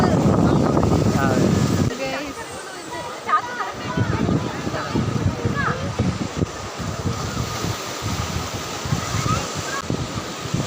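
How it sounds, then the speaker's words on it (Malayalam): Strong wind buffets the microphone on a boat trip at Cherai Beach, Kerala, a loud steady rush with water sloshing underneath, while people talk over it throughout. "നല്ല കാറ്റ്, നല്ല തണുപ്പല്ലേ?"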